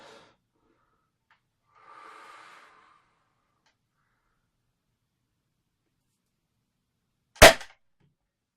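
A single sharp, loud crack of a toy blaster firing, preceded by a faint soft rustle and otherwise near silence.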